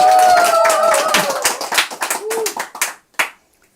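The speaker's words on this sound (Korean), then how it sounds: "이 정도 얘기하면 딴 데에서는 박수가 나오던데" An audience breaks into applause after a speaker's story, a burst of crowd clapping that thins into scattered individual claps and fades out, with a voice briefly heard at the start.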